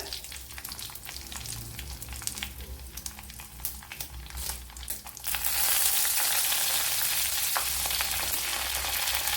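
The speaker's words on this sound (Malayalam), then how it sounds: "ഇവിടെ കടുക് പൊട്ടിയിട്ടുണ്ട്. ഇതിലേക്ക് വറ്റൽമുളക് ഇട്ട് കൊടുക്കാം." Mustard seeds and dried red chillies sizzle in hot oil for Kerala-style semiya upma, a steady frying crackle that jumps to a louder, hissing sizzle partway through and stays intense.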